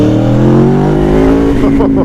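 Loud, close engine note from an Aprilia Tuono Factory motorcycle, a steady rising drone for most of the run before it breaks up into a rougher, fluttering tone near the end.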